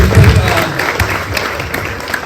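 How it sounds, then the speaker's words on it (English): A crowd claps and cheers at an outdoor mental health awareness walk, a dense, loud burst of applause that goes on steadily throughout. "give yourselves one big, huge round of applause"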